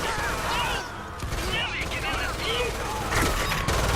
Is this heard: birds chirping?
no